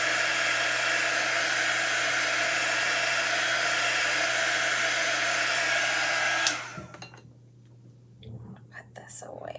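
A handheld craft heat drying tool blows a loud, steady whirring hiss over chalk paste for about six seconds, then cuts off, leaving quiet handling noises and faint soft speech.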